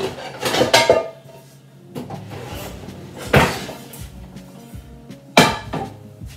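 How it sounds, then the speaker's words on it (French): A frying pan handled in a kitchen clanks and knocks against metal in three separate bursts, with quieter shuffling and rattling between them, close and fairly loud. "Vous prenez une poêle."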